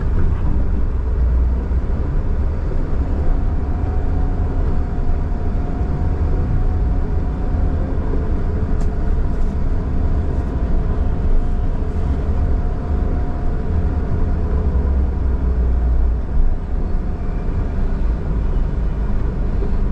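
Street traffic in Rudsar, Gilan, in northern Iran: a steady, continuous low rumble of passing cars fills the whole stretch, with no single vehicle standing out from the blended road noise.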